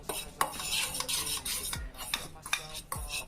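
A spoon clinks and scrapes against a bowl while stirring a spiced egg mixture for an egg sandwich, with sharp repeated taps and brief swirling rubs, close and fairly quiet.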